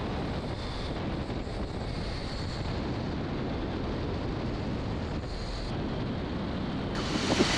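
Gusty wind from the gust front of approaching storms buffets the open air around a small aircraft coming in to land, a loud, constant roar rising toward the end with no talk.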